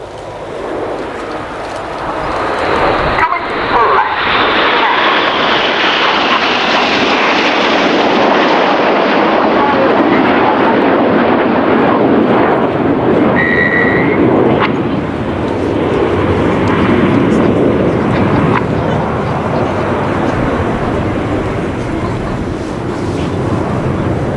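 Red Arrows jet aircraft performing a flying display at the Royal International Air Tattoo 2024, a loud, sustained jet roar that swells and holds steady throughout, continuous broadband engine noise passing overhead with no speech.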